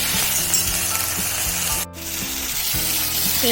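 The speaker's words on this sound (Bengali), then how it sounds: "এবার ভালো করে ভেজে নেব" Turmeric and Kashmiri chili powder fry in a pan with a steady, close sizzle and scraping stir, and a brief dip near the middle.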